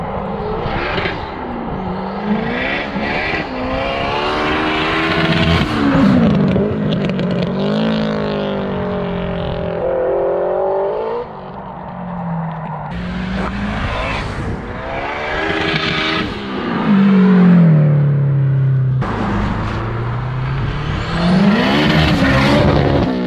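A turbocharged 500bhp Honda Civic Type R EP3 roars loudly close by, its engine revving and rising in pitch through repeated gear pulls with turbo whine, sweeping past and back over a sustained stretch.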